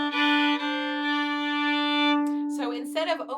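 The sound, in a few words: fiddle playing B part of Shove The Pig's Foot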